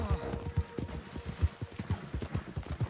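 Horse galloping in Red Dead Redemption 2, a steady run of heavy hoofbeats close up, each fall landing clearly in a quick rhythmic beat from start to finish.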